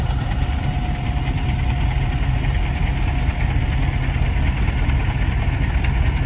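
Caterwil 4WD electric all-terrain wheelchair climbing a steep slope outdoors, giving a loud, steady, continuous motor drone with broadband rumble and no pauses.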